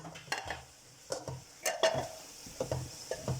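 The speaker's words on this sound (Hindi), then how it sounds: "तो इन्हें भी अच्छे तरीके से मिक्स कर लेंगे और इन्हें भी भून लेंगे 2 मिनट के लिए।" Carrots, cabbage and capsicum being stir-fried for vegetable biryani, a soft sizzle under repeated spoon scrapes and light clinks against the pan, fairly quiet and close.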